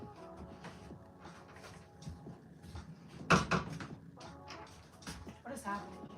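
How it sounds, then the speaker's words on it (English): An indoor door being shut, heard as a soft thud amid faint shuffling and handling noises in a quiet room, with a person speaking intermittently around it. "I'm gonna shut the door."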